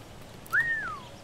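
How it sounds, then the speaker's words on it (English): A game character in Assassin's Creed Rogue gives a single clear whistle, a sharp rising note that holds and then glides down, heard alone over quiet background. "let's whistle"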